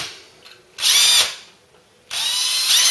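A power drill with a high-grade bit bores out a steel-pinned rivet on a Ford Cortina, two loud sustained whirring bursts separated by a short pause, close up and alone.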